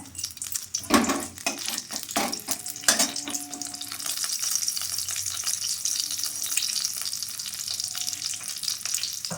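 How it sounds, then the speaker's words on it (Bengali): Whole spices tempering in hot white oil for a Bengali rohu fish kalia, a close crackling sizzle with sharp bursts early on that settles into a steady frying hiss. "তেল গরম হয়ে এসছে, ফোড়নগুলো দিয়ে দিলাম।"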